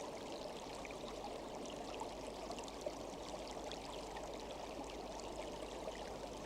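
A river flows steadily beside a jungle path, a soft continuous wash of streaming water that stays faint and even throughout, with no voices.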